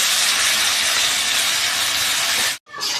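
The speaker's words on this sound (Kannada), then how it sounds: "ಇದು ಮೆಂತ್ಯ ಸೊಪ್ಪನ್ನು ಸೇರಿಸ್ತಾ ಇದ್ದೀನಿ ಇದು ಒಂದು ಎರಡು ನಿಮಿಷ ಕುದಿಬೇಕಿದೆ ಚೆನ್ನಾಗಿ ಕುದಿಬೇಕು" Water with turmeric and fenugreek leaves at a rolling boil in a pot, a loud continuous hissing bubble that cuts out briefly near the end before resuming.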